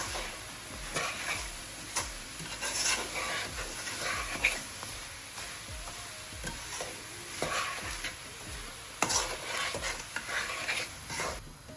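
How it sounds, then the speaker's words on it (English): Rhubarb and apple with sugar, nutmeg and ginger being stirred in a pan, giving repeated soft scraping strokes over a light sizzle, close and steady with no talking. "Just going to give that a good stir"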